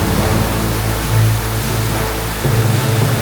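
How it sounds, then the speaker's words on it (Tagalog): Heavy rain pours down during a stormy road trip in Quezon, a loud, steady hiss and roar filling the whole clip with no voices. "Lakas ng ulan."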